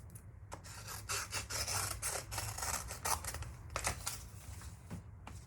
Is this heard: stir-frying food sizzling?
no